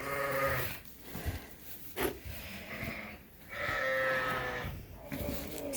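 Sheep on a farm being let out of their lambing jugs, several loud bleats and baas close by, broken by brief pauses, with shuffling and rustling between calls.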